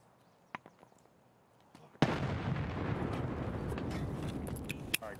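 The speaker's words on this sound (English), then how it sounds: "let me throw nades over there" A grenade detonates in Escape from Tarkov after a few faint clicks, a sudden loud blast followed by a sustained roaring, crackling rumble with scattered pops.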